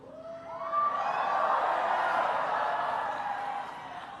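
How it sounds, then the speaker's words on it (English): A big outdoor crowd at the March for Life rally in Washington cheers and hollers, the roar swelling quickly, holding loud, then easing off toward the end, with no one speaking over it. "It's an amazing crowd"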